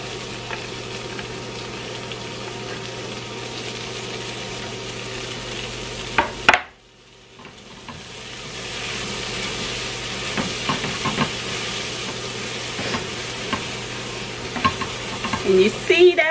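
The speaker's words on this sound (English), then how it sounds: "So now I'm gonna add my cabbage with a bit of onion." Cabbage and onion sauté in a hot pan with steady, loud sizzling and hissing. A brief pause comes as the food is stirred in, then the frying builds again, with some scraping against the pan.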